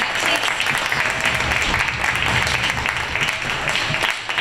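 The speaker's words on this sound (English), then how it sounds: "Another round of applause." Sustained, dense applause from the audience at a community arts lab reception showcase, steady and fairly loud throughout with no break.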